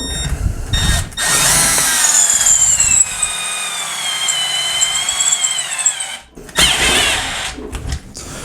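A Milwaukee M12 drill drives a lag bolt into wood, its motor whining steadily at close range for several seconds, with a brief pause and a second short burst near the end.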